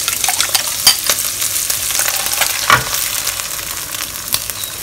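Beaten eggs hit a hot pan with prawns and roast pork, giving a loud, close sizzle with spatula scrapes and clacks as the mix is stirred, continuous and without speech.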